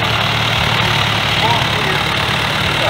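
An unrestored Massey Ferguson 65 tractor engine runs at a steady idle at a vintage tractor fair, its low, even rumble constant and close throughout.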